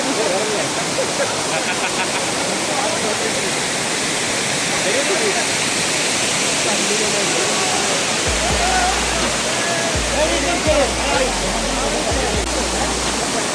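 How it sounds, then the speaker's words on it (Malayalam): Waterfall in Gavi forest, a steady loud rushing roar of falling water filling the whole stretch, with low thumps and handling noise in the latter part. "അവിടെ ഒരു വെള്ളച്ചാട്ടം നമുക്ക് കാണാൻ പറ്റും."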